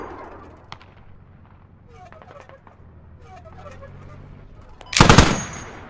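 Gunfire in the tactical shooter game Squad: one sharp faint shot early on, then a loud, close burst of shooting near the end over quiet ambient background.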